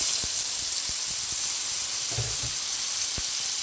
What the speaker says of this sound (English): So now guys, I'm going to add my shrimp.